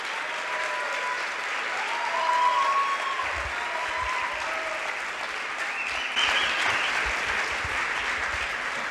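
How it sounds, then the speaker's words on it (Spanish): An audience applauds Miklos Lukács at a talk in Monterrey, a steady wash of clapping that swells slightly in two bursts, with faint cheers or whistles rising over it. "Un fuerte aplauso para Miklos Lukács."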